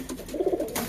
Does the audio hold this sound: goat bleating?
no